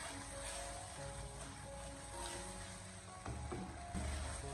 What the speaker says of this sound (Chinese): 调料下锅以后，我们立刻马上的用锅铲迅速的翻炒均匀